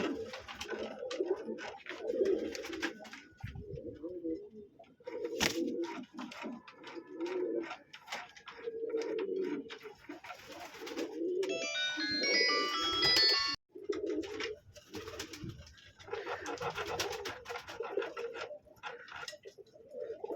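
Soft, low cooing from pigeons repeats in a steady rhythm, with fluttering, light knocks and a brief high chirp in the middle.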